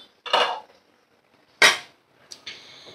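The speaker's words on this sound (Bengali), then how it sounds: "দেখো আমি ঢাকাটা তুলে নিলাম।" Metal lid lifted off a cooking pot on the stove for a vegetarian dal, giving two sharp, close metallic clanks with short ringing tails, then a lighter tap and a faint sustained ring.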